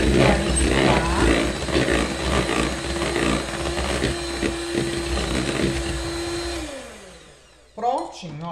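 Cake batter of flour and milk being mixed by a motorized mixer, giving a loud, steady whirring drone that holds for several seconds and then winds down to a stop, followed by a short clatter.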